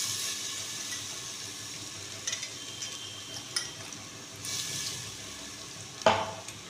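Ginger garlic paste sizzles in a pan with softened onions for egg pulao, a steady close frying hiss with occasional stirring scrapes and one sharper clatter near the end.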